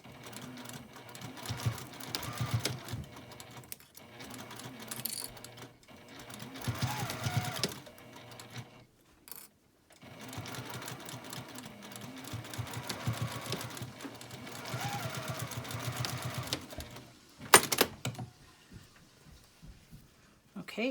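A sewing machine stitches a pleated fabric face mask in several close, loud bursts of rapid whirring needle strokes, separated by brief pauses and fabric handling, with one sharp clack near the end.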